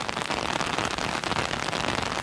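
Steady, dense rain pours beside the Maharana Pratap statue in Udaipur, a loud continuous hiss without pause or voices.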